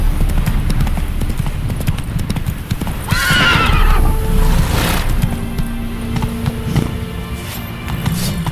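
Roach, a horse in The Witcher 3: Hearts of Stone, lets out a loud, close whinny partway through over a steady run of hoof clops, with low rumbling game ambience underneath.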